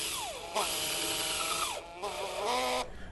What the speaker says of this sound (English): We have now sawn the posts and will mount the patio posts with M8x40 self-tapping screws using a 40 torque screwdriver.